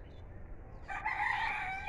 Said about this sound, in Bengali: মুরগি ডাক দেয়, দেখছেন?